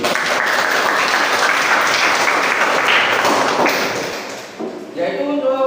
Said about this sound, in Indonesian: Ya, tepuk tangan untuk Mbak Lucy